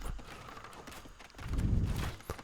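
Clip-clop of horse hooves from horse archers in the Age of Empires 2 Definitive Edition strategy game, a busy rhythmic trotting within a dense battle soundscape, joined by a low rumble.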